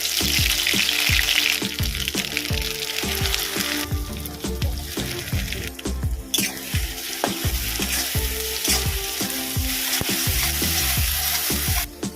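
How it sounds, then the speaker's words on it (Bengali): Coconut and onion paste fries in hot mustard oil, a loud, steady sizzle with rapid crackle throughout, punctuated by scraping stirs against the pan. "তেলটা গরম হয়ে গেছে আমি এখানে নারকেল আর পেঁয়াজের যে পেস্টটা বানিয়েছি সেটা দিয়ে দেবো"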